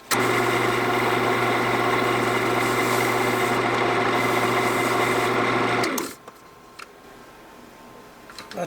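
Friction polish is pressed against a spinning scrap-wood bowl on a lathe, making a loud, steady rubbing hiss over the motor hum for about six seconds before it stops and only faint room noise remains.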